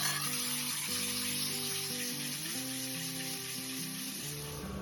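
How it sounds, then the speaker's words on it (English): A DIY flat lap built from a portable Artista pottery wheel grinds with a 600 grit wheel, giving a steady wet hissing, sizzling wash under a quiet hum of backing music. "This is my DIY flat lap. This is actually an Artista pottery wheel."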